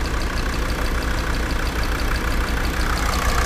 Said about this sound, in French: Quand j'ai lâché, le moteur a réagi différemment.